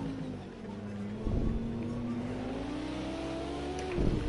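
An Audi race car in a racing video game set at Spa, its engine droning steadily and climbing in pitch as it accelerates, with brief louder bursts of revving close up.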